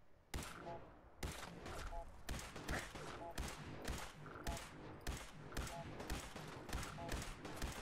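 Repeated gunshots from a weapon in Fallout 4, sharp bursts spaced roughly every half second to second, loud and close, with game effects and some voice beneath.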